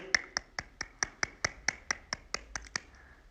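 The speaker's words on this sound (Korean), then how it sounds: "자, 모두 박수!" One person claps about a dozen times in an even, brisk rhythm, each clap crisp and close but fairly quiet, during a Korean K-pop livestream announcing concert ticket sales.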